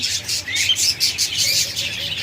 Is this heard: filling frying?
no